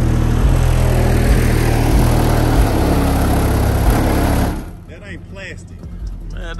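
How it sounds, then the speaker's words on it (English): A Chevrolet LS V8 in a 1987 Monte Carlo SS idles loud and close with a steady low rumble, then cuts out partway through, leaving quieter background with voices. "Could you turn the car off, whoa, so we can talk? No, that's LS, it can run all day."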